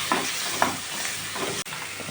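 Drumstick kurma cooking in a pan with tomato gravy, giving a soft, steady sizzle with a few sharper stirring scrapes near the start, close up and with no voices.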